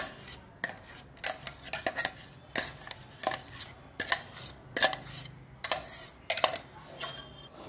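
Ground ivy gourd chutney scraped from a mixer jar into a pan with a metal spoon, giving repeated loud clinks and scrapes in irregular bursts, close up with no talking.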